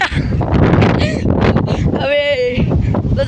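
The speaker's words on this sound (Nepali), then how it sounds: "हावाले मान्छे उडाउन जस्तो भइरहेको छ" Strong wind gusting across an open spot during heavy rain, a loud, constant roaring buffet on the microphone that runs throughout, with people talking over it.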